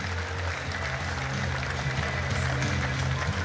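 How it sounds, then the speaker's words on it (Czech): Arena applause for fighter Josef Král at a GCF combat-sports event, a steady, moderately loud crowd wash with a low hum underneath and no speech on top. "Dámy a pánové, potlesk pro Josefu Gorilu Krále."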